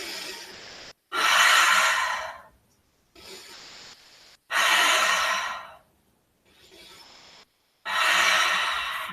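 Slow, deep breathing through a yoga class: three long, loud inhale–exhale swells alternating with quieter, shorter breaths, rhythmic and close, with no talking.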